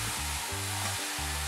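Chopped snake gourd sizzles and hisses as it stir-fries with salt in a pan for Kerala-style thoran, a steady close crackle with no voices.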